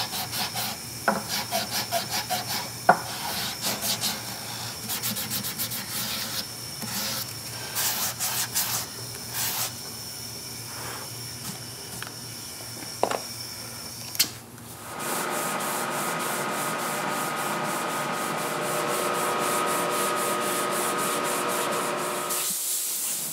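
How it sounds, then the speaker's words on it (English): Steady hand sanding with sandpaper along the grain of a handmade guitar's wood, rhythmic back-and-forth rubbing strokes for about fifteen seconds, then a continuous hissing sound takes over. "All of my final sanding I do by hand, in line with the grain."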